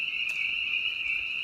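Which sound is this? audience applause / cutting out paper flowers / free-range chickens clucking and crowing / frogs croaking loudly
frogs croaking loudly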